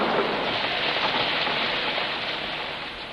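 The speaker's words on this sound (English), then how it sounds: "But continued heavy rain high on the plateau raises the level of the river again." Dense, steady downpour of heavy rain hissing continuously, loud and close, with no voices.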